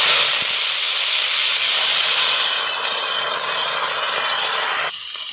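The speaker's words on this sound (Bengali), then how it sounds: "দেখুন আমি কড়াইতে লাল শাকটা দিয়ে দিচ্ছি।" Red amaranth greens, still wet from washing, hit a hot wok and set off a loud, steady steam hiss and sizzle that holds evenly, then drops off sharply near the end.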